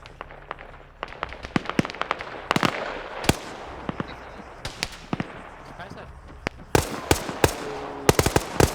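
Machine gun fire from an M113 in a video game crackles in scattered short bursts and single cracks, some distant and some closer and louder, while a person talks over it.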